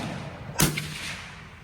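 A single sharp rifle shot from a Savage Axis Pro chambered in .25-06 cracks loudly at a shooting range, with a short ringing tail fading over the ambient outdoor noise.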